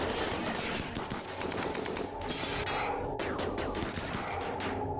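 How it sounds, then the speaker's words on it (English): Rapid, dense gunfire in the colony game Rimworld during a fight to save rhinos, with continuous overlapping shots and sharp bursts that stay loud and steady the whole time. "There's only a couple of us shooting."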